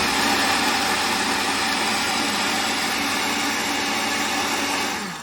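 Geepas juicer blender set to its puree mode, whirring steadily as it purees spinach; a loud, continuous motor roar that holds level throughout and cuts off at the very end, with no talking.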